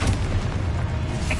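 A Confringo explosion spell in Hogwarts Legacy, played on PS5, lands as a short low boom with a rumbling tail, fairly loud and alone.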